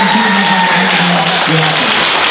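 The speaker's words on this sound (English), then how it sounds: "Let's give them a big round of applause." Loud, dense applause from an audience at a high school Asian Night gala with a fashion show, a steady wash of clapping filling the whole moment, with a voice or music tones faintly audible beneath.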